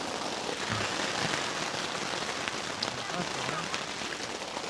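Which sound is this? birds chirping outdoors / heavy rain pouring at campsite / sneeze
heavy rain pouring at campsite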